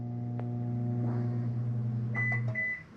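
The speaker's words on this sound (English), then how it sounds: "We got our self-explanatory microwave." An RV microwave oven in a 2019 Jayflight SLX 298BH travel trailer hums steadily as it runs, then gives a couple of short electronic beeps near the end before the hum stops.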